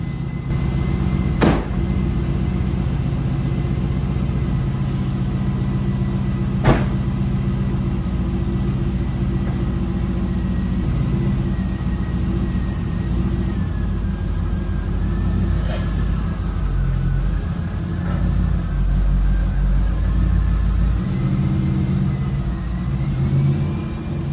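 A C5 Corvette's engine runs steadily during a test after a reverse-gear pop-out repair, a loud low rumble that swells and eases slightly, with a couple of brief clicks and no talking.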